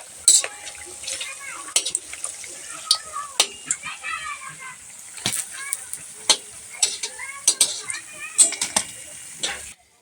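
Aloo chop potato fritters frying in a pan, a steady low sizzle under repeated sharp clinks and scrapes of a spoon against the pan, close and fairly quiet.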